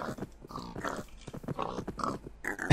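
Pigs grunting and oinking in Minecraft, a run of short snorting calls in quick irregular succession, fairly close and loud, with no talk over them.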